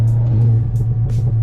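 A 2017 Audi A3 on lowering springs rumbles while driving, its exhaust giving a deep, steady low burble with brief crackly pops on top, loud and close.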